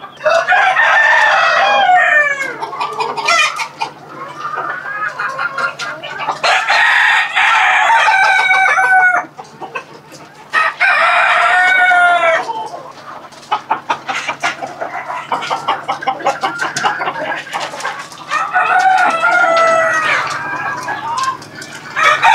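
Elba chickens on a poultry farm, several roosters crowing loudly in repeated long calls with clucking hens in between, a dense close chorus of farm fowl with no talk.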